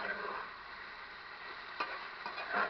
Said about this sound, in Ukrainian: І, звісно, все перемішуємо.